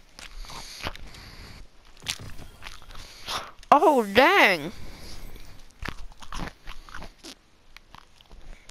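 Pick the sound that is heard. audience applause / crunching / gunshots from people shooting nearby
crunching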